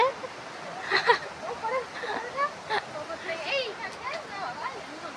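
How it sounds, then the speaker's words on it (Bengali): A waterfall near Zuluk pours down from above, a constant broadband rush running beneath people talking nearby. "এই ঝর্ণার আওয়াজটা আসছে ওপর থেকে পড়ছে"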